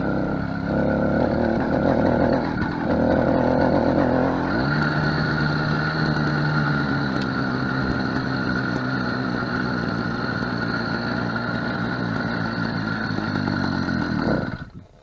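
A motorised bicycle engine, freshly fitted with an HP carburettor in place of the NT, idles steadily and loudly up close, a constant buzzing drone that holds for about fifteen seconds before cutting off.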